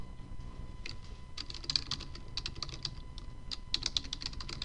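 Someone types a web address on a computer keyboard, with quiet clusters of rapid key clicks separated by short pauses.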